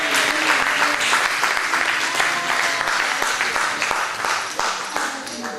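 A church congregation applauds steadily, dense clapping filling the room at a constant loud level for several seconds with no speech over it.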